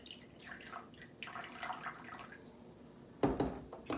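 Water poured into a plastic cup for a simple home ice experiment gives soft splashing and trickling, faint at first, then a brighter, louder pour near the end with a final short splash.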